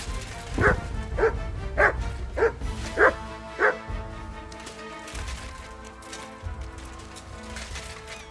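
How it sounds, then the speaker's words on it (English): A dog in the medieval role-playing game Kingdom Come Deliverance 2 barks six times in a regular rhythm, loud and close, followed by softer whimpering yips over a low ambient game backdrop. "Good dog, Mats."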